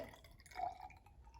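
Water poured into a container on top of a layer of oil, a brief soft splash and trickle near the microphone with a gentle pouring tone.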